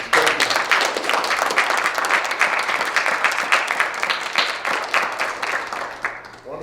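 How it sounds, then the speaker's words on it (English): A high school jazz band and audience clap for their band directors in a long, dense, even burst of applause that thins and fades out in the final second. "Give your directors an even bigger round of applause for getting this."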